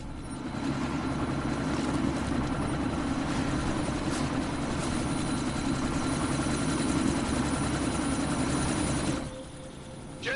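A video game helicopter's engine drones steadily and loudly with a dense rotor-and-turbine roar, holding for about nine seconds before dropping off and quieting near the end, with no voices.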